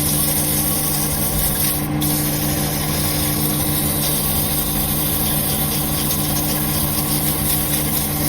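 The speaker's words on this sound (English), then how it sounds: "Now a bit of light sanding with 240 grit paper." A turned pen blank spins on a lathe while 240 grit paper is lightly held against it, giving a steady, close whirring hum with a constant rubbing hiss and no pauses.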